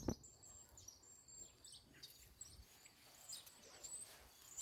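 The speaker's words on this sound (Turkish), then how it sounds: "Allah bizim burası da kuş cennetine dönüştü ya" Faint, distant bird chirps and high twittering calls scattered across a quiet background, soft and intermittent.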